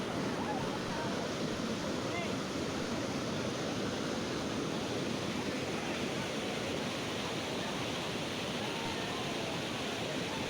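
Akaya Gangai waterfall in the Kolli Hills pouring heavily, a dense, steady roar of falling water that stays loud and unbroken from start to finish.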